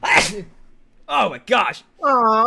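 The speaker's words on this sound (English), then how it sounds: "I had to sneeze." A single loud, close sneeze bursts out at the start, followed after a pause by a person's surprised exclamations.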